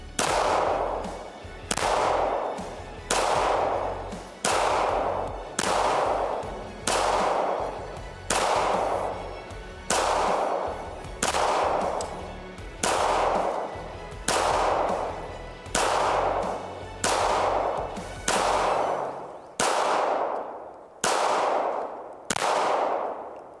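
Staccato P 2011 pistol fired at bullseye targets at 5 yards, around fifteen loud sharp shots in a steady fast rhythm, each with a ringing decay, close and without talk.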